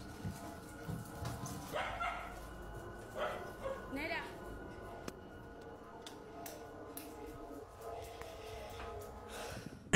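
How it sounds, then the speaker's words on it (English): A dog barks in short bursts scattered through the recording, with people talking in Spanish over it and background noise, ending in a sudden loud thump. "this could just be the dog that's barking in the clip"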